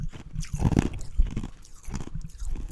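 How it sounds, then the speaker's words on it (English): Someone chews ice close by, with irregular crunching bites and grinding chomps repeating over a few seconds, loud and without talk. "not just like the chewing ice thing, which is very bad for your teeth."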